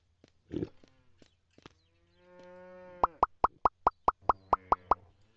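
Cows mooing in the Farming & Supermarket Simulator video game: a single short plop, then a drawn-out moo, then a fast run of about ten sharp, evenly spaced clicks, all close and clean with no talking.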